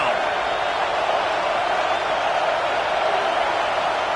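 Large football stadium crowd roaring steadily at a college game between the Longhorns and Beavers, a dense, continuous wall of noise with no clear breaks, with announcer voices mixed in.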